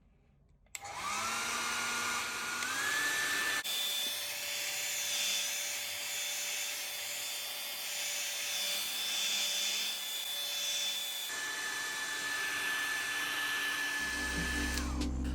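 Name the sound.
heat gun or hair dryer heating Google Pixel 3 back panel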